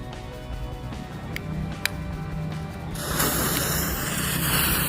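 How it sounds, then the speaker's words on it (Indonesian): A smoke firecracker's hissing fizz builds and then bursts into a louder, broad spray of crackling noise, with a couple of sharp pops early on. "Selanjutnya kita nyalakan mercon pipa asap yang baru teman-teman."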